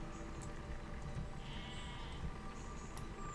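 Sheep bleating in the Besiege siege-building video game, a few short high calls scattered over a steady, busy game-noise background with no voices.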